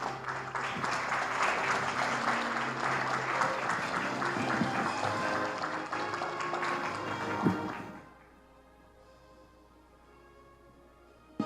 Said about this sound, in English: Please welcome the Honorable Valerie Woods, Speaker of the House of Representatives of Belize, with a warm round of applause.